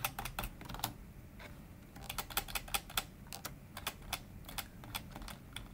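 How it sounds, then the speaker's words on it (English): Computer keyboard typing while writing a network intrusion detection rule: irregular bursts of crisp, close key clicks with short pauses between them, fairly quiet, no talking. "Just type TCP."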